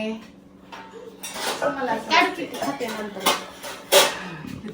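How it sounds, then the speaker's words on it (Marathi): Steel kitchen pots and dishes being stacked onto a shelf, with repeated close metallic clinks and clatters, a loud clang near the end, and someone talking throughout. "अशा पद्धतीने आम्ही सगळी भांडी बसवणार आहे"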